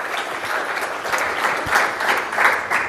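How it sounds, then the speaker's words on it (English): At a security conference, an audience gives the AV volunteers a steady round of applause, a dense, fairly loud wash of clapping throughout. "just to give them a round of applause"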